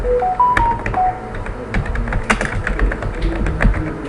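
Rapid typing on a computer keyboard while entering an Excel formula, irregular close clicks and taps in quick bursts, with a few short electronic beeps at the start, no talk.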